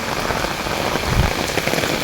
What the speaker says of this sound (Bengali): বৃষ্টি কিন্তু অনেক জোরে হইতেছে